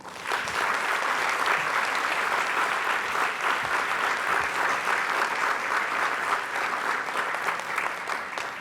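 A conference audience claps steadily in dense, even applause that holds at a constant level throughout, close and full with no talk over it.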